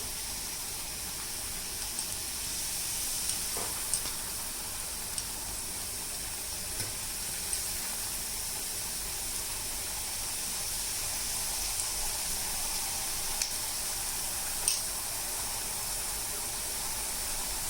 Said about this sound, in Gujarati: હવે તેમાં આપણે પૂરી એડ કરવાની છે